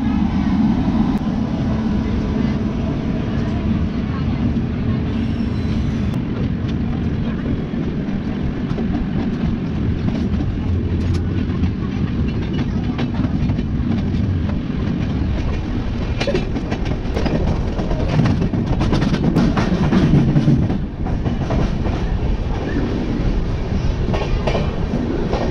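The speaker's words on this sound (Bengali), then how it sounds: "সেই ট্রেনটি অলরেডি মানে ঢুকতে চলেছে ওই প্ল্যাটফর্মেই। ওই দেখুন ঢুকছে" The Howrah Rajdhani Express rolls into a platform at Asansol station, its heavy low rumble and rhythmic clickety-clack of wheels over rail joints going on steadily throughout, close and loud, with brief metallic clatter near the end.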